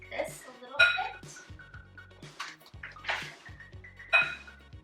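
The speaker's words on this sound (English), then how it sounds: "Just going to grab a big spoon and mix this a little bit." A big spoon stirring chicken casserole ingredients in a dish, with scattered clinks and scrapes against the cookware, close and moderately loud, joined by brief bits of voice.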